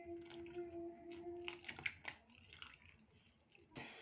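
Beaten egg and milk are poured onto flour in a bowl for fluffy pancakes: a soft wet splashing pour, close, ending with a clink, and a faint tone hums in the background.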